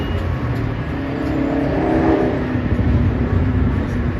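A Subaru car engine roars steadily at close range on the Las Vegas Strip, a loud sustained rumble that swells slightly in the middle.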